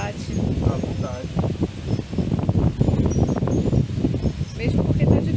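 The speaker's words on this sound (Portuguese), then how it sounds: "Porque tá ventando muito" Strong outdoor wind gusts past the microphone with rustling and buffeting, near and fairly loud, rising and falling across the stretch while a voice is faintly present.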